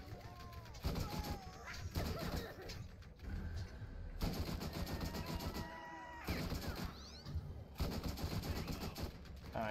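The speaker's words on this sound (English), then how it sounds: "I'm getting shot from behind as well." Rapid bursts of video game gunfire from Borderlands crackle in repeated volleys, loud and close, with pauses between bursts, over background game effects and a voice talking.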